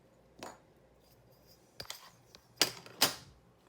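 A polymer clay cane is sliced with a blade, a handful of short, crisp cutting clicks and taps spaced apart in a quiet room.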